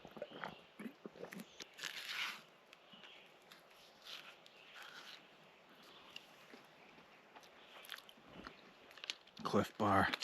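Chewing a crunchy snack of peanut butter bar and banana on an Appalachian hiking trail, close crunchy bites and mouth sounds repeating irregularly, with a louder burst near the end.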